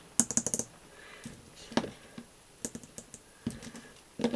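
Hard polyurethane resin casting tapped several times, giving short, sharp plastic clicks in small clusters, close and fairly faint, with gaps of quiet between bursts.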